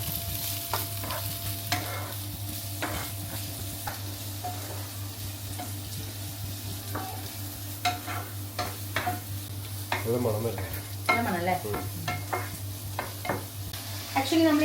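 Onion sautés in a pan for pad thai with a steady sizzle, and frequent stirring scrapes and taps come close, growing busier toward the end.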